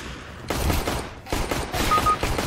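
Gunfire in a video game, one character shooting his own teammate: several rapid bursts of shots in quick succession, loud and close, separated by brief pauses.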